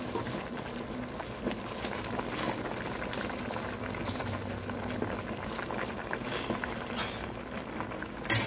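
Jute leaves go into a pot of boiling labong soup. A steady bubbling simmer continues throughout at moderate level, with faint rustling and stirring underneath.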